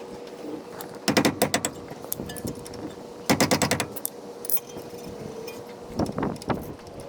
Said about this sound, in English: I'm going to be removing these 2 bolts and removing the caliper.